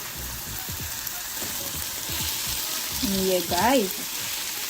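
Ackee hits a hot pan with a steady, bright sizzle and crackle that runs throughout, while someone speaks briefly over it.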